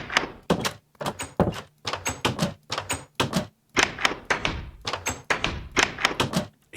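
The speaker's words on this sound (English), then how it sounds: "you can hear the door sound effect here" Repeated classic-style door open and close effects from the game Caelesti, about a dozen short, punchy thuds and clacks spaced roughly half a second apart, fairly loud and close with clean gaps between them.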